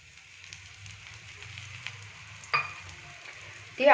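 Ragi roti fries in a little oil on a pan, a faint, low sizzle and quiet crackle throughout, with a brief louder scrape near the middle and another at the very end.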